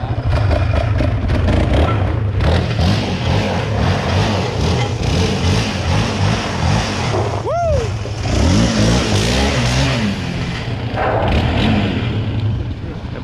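A TRX motorcycle rides in and revs its engine loudly, with rising and falling throttle bursts over a rumbling idle, close by, while people talk over it.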